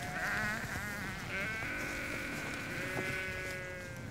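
Several sheep on a Scottish farm in winter bleat in overlapping, wavering cries, some close and some farther off, over a low outdoor rumble.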